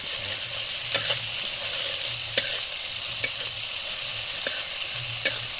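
Chicken fries in a pan for kosha curry, a steady bright sizzle with repeated clacks of a spoon stirring against the pan, close and with no talking.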